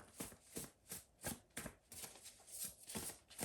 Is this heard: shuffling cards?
yes